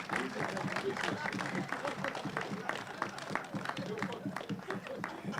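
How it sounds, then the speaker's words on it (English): An audience at a school ribbon cutting ceremony gives a steady round of applause, dense, continuous clapping at moderate level from a crowd, with faint voices mixed in. "a round of applause"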